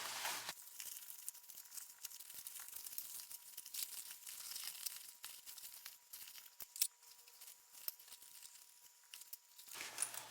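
Sewn fabric zipper pouch being turned right side out by hand through its lining: soft, continuous rustling and crinkling of cloth close by, with a faint steady hum beneath and a few brief louder rubs.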